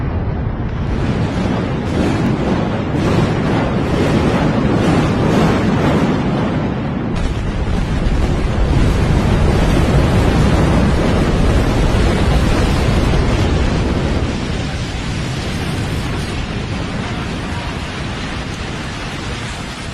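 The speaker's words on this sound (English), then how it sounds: "15 buildings from Phase 2 of Liangxingcheng and Kunming were brought down in one synchronized blast" Fifteen residential towers in Kunming, Yunnan, brought down in one synchronized explosive demolition: a dense, continuous roar of blasts and collapsing concrete that rumbles loudly for many seconds, then slowly fades into a distant wash of settling debris.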